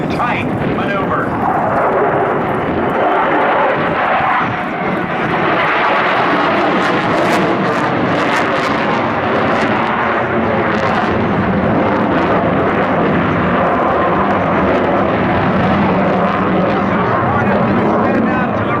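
F/A-18 Super Hornet jet at an airshow demo, a loud sustained roar of jet engines throughout a tight high-speed maneuver, rumbling and surging without pause while an announcer talks over it.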